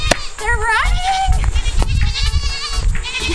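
Several goats on a goat farm bleat loudly and close by, overlapping wavering cries over rustling and shuffling, with a person's voice mixed in.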